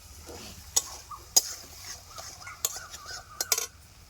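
Fried drumstick pieces tipped into a pan and stirred with a metal utensil, sharp clinks and scrapes against the pan over a soft, steady sizzle.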